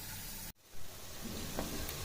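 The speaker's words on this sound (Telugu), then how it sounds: "ఇప్పుడు లిడ్ పెట్టుకొని సెమ్మి మీద పెట్టుకొని ఒక 10 నిమిషాలు మగ్గనియాలి" Bitter gourd and tomato curry cooks under a lid, giving a steady soft sizzle and bubbling, broken by a short quiet gap and then continuing, with no talking.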